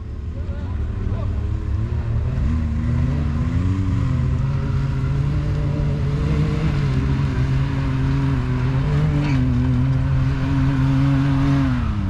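Can-Am Maverick X3 RS UTV engine revving and accelerating on a mountain expedition trail, a loud continuous drone with rising and falling pitch throughout, under excited voices shouting.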